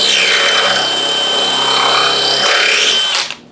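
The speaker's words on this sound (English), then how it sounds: "You'll drill your first hole" A power drill bores a screw hole into a workbench top, a loud, close, steady whine with a grinding bite for about three seconds before spinning down and stopping.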